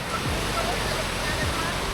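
Steady broadband wash of sea water at a white-sand beach in Ilocos, Pagudpud, a continuous close roar of surf with no distinct breaks, filling the whole stretch.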